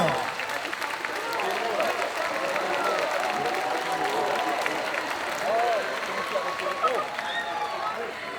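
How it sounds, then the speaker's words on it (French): Audience applause at a cosplay contest, a steady wash of clapping and crowd noise filling the hall, with a voice carrying over it throughout. "Sous vos applaudissements extraordinaires"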